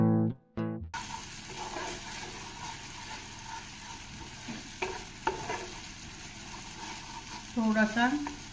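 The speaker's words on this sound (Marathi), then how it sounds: "गॅस मात्र एकदम मंद आणि हा मसाला छान आपल्याला भाजून घ्यायचा आहे." Masala roasting in a pan over a low gas flame for a shahi makhana vegetable dish, with a quiet steady sizzle and occasional stirring scrapes. A short musical tone plays at the start.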